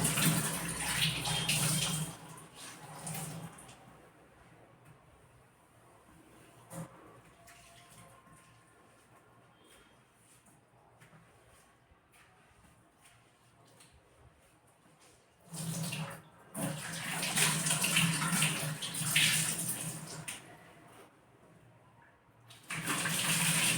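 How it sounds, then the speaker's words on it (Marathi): A kitchen gas stove counter is washed with water, with bursts of running tap water and splashing at the start and again in a longer stretch near the end, separated by quieter rubbing and dripping. "गॅस ओटा स्वच्छ करून घेते"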